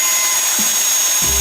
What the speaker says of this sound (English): I'm going to try and drill through those and see if it'll loosen it up a bit.